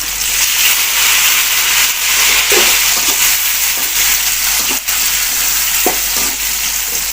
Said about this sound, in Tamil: பூண்டை போட்டு வதக்கணும் அப்புறம் தக்காளி